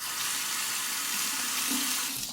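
Running tap water splashes steadily into a sink as a Merkur 20B safety razor is rinsed mid-shave, a continuous close rush of water with no talk.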